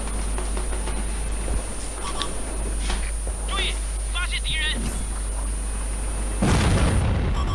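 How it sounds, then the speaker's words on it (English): Artillery shells strike a light tank in a tank battle video game. A low engine rumble runs under ongoing talk until one heavy, booming impact lands near the end. "And artillery decides it's going to have a go at me in my light tank."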